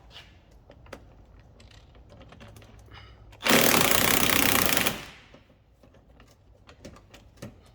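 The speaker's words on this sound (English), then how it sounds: "I'm going to use my impact gun, and hopefully I can get it off" An impact gun undoing a suspension bolt on an Alfa Romeo 147 or 156 top wishbone, one loud rattling burst of about a second and a half amid quiet workshop clatter and small knocks.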